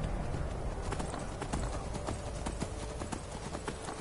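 Hooves of a brown horse in the video game Skyrim clip-clop in a steady, fairly loud rhythm, with no talking over them.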